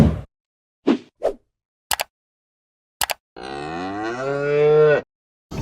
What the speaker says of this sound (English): Just shut the milking cows in.